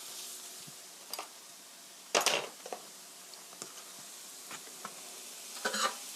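Orange chicken stir-fries in a pan with a quiet steady sizzle, broken by a few sharp scrapes and clatters of the spatula spaced several seconds apart.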